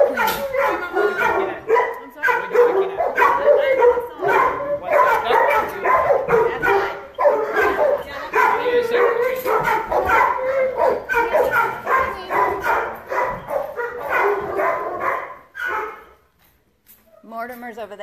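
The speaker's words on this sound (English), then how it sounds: "all these poor dogs in desperate need to get out of here" Many shelter dogs bark and yip in a dense, overlapping chorus that carries on almost without pause, loud and close, before stopping near the end.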